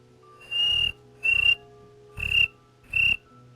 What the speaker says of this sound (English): There's a cricket in my room.